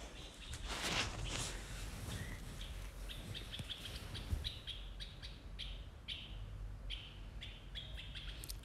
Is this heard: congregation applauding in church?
no